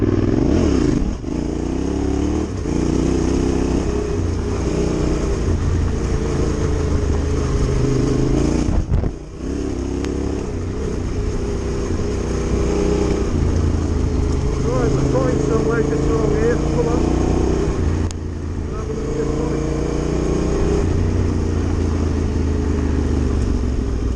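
A Yamaha T7 Tenere 700 motorcycle rides along with a steady engine drone, wind rush and slight revving, while a rider talks over the engine throughout.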